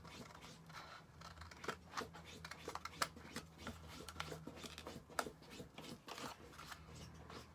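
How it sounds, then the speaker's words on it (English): Scissors snip the corners of a greeting card for a gift box, with quiet repeated clicks and scraping cuts against faint handling noise, close and soft throughout. "So cut inside it here, cutting it off, and cut it off here."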